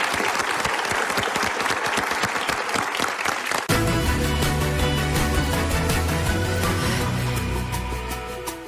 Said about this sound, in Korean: 뜨거운 박수 보내주세요